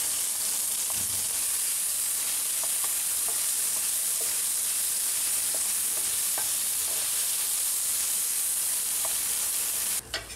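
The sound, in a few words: frying tomato chutney with tamarind in a pan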